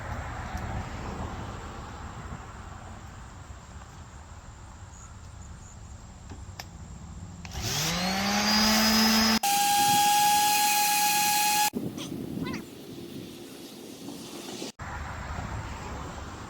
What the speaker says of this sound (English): So I got me a heavy grit sandpaper